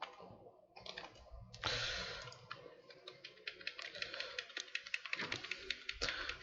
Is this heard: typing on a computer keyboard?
yes